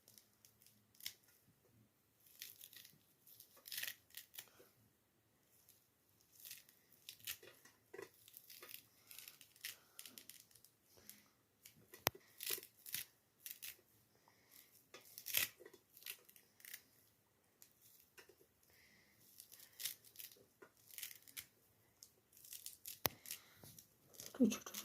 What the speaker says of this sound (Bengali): এবারে আমি ছোট ছোট করে কুচি কুচি করে একটু ধনেপাতা কেটে দিই